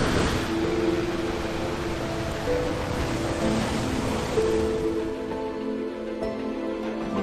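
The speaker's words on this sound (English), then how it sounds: "The rushing waves calm our body and soul." Ocean waves rush and wash steadily in a continuous broadband roar that stays fairly loud throughout and eases slightly toward the end, with no voices present.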